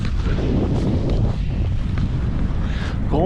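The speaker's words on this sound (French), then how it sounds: "Le vent s'est levé" Mountain wind in the Yukon, Canada, during a ski outing roars and buffets steadily against the microphone, loud and continuous throughout.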